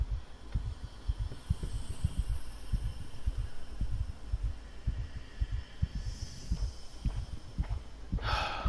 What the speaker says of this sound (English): the heart beating sounds